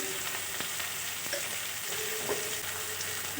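Spices with turmeric frying in oil for a fish head curry, a steady moderate sizzle with occasional light stirring clicks, continuous and close with no voices.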